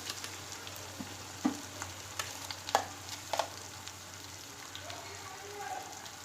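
Vegetables for pav bhaji fry in a pan as a masala paste is added, giving a soft, steady sizzle with occasional clinks and scrapes of stirring.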